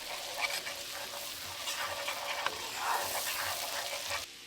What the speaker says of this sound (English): I just want the garlic to cook for a couple minutes.